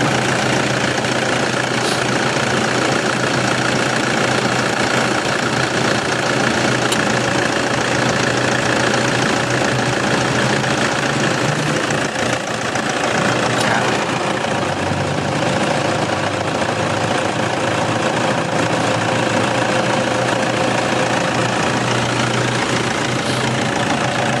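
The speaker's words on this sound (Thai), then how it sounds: "เครื่องนิ่มมากครับ ไม่มีความไม่มีไอออกครับ" A Toyota Vigo Champ 2.5 E pickup, 2012, idles close up with a steady, dense diesel clatter and a constant low rumble throughout, with no talk.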